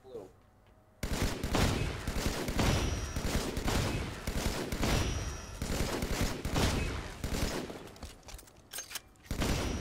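Rapid automatic gunfire rattles through a Halo 5 firefight, dense bursts of shots starting abruptly after a quiet second and continuing loud and close, with voices talking underneath.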